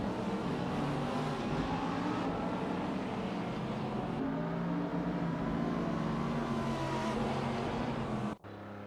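Race cars in a racing simulator video game roar in a dense, continuous engine drone with shifting pitch, loud and unbroken until it cuts off abruptly near the end, with no talking.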